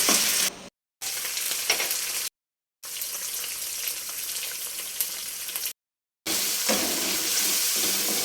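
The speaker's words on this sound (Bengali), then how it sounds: "আদা বাটা লঙ্কা বাটা জিরে বাটা ভালো করে নাড়িয়ে চাড়িয়ে ভেজে নিতে হবে" Ginger, chili and cumin pastes frying in hot tempering oil while being stirred, a close, dense sizzle broken by several short silent gaps, no voices.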